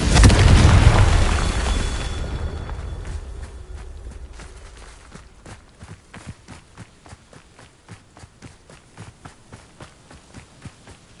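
A loud Confringo blasting spell explodes in Hogwarts Legacy with a deep booming burst that slowly decays, followed by a steady run of footsteps thudding away.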